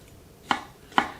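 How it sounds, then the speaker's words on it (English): Two sharp knife chops through gherkins on a cutting board for tartare sauce, evenly spaced about half a second apart, close and distinct in a quiet kitchen. "So start by chopping your gherkins up."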